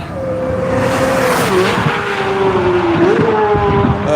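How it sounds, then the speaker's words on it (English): A Corvette race car roars past on the track at the National Corvette Museum, with a loud, steady engine drone, a pitch that shifts as it goes by, and brief tyre squeal. "Here comes Bill in the Corvette"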